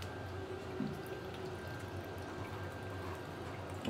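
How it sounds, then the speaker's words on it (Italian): Hot water drains steadily from a household water heater that is being repaired, a continuous, moderately quiet trickling flow with no voices. "In effetti l'acqua calda mi scola."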